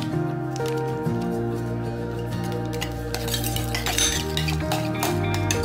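Garlic butter being stirred and mixed in a container that previously held croutons, with repeated light clinks and scrapes of a utensil against the sides over steady kitchen background, no talking.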